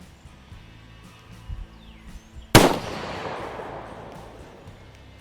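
A single sharp, loud rifle shot fired during a scope test cracks out of quiet outdoor surroundings, followed by a long, fading echo tail.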